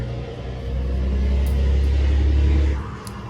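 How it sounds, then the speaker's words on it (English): A loud truck rumbles past up close, its deep engine drone swelling and holding steady for a couple of seconds before falling away as it moves off. "loud truck."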